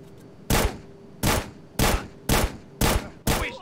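Six bursts of video-game gunfire from GTA San Andreas ring out at a steady rhythm, each a loud, sharp volley that fades quickly, with no voices in between.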